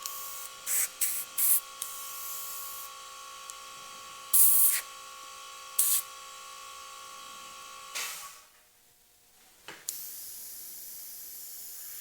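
An airbrush sprays black and grey paint onto a skull design on a motorcycle saddlebag, with a steady close hiss and short sharper bursts of spray before it cuts off.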